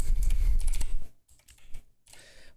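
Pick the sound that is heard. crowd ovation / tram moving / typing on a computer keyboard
typing on a computer keyboard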